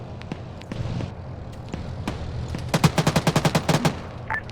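Arma 3 gunfire during a chaotic firefight: scattered single shots and distant cracks, then a rapid burst of about a dozen evenly spaced automatic rounds, fairly close and sharp.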